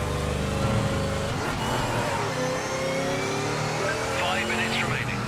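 Race car engine in the Project Motor Racing video game, droning steadily at high revs throughout with shifting pitch as the car slides and recovers, loud and continuous with a voice talking over it.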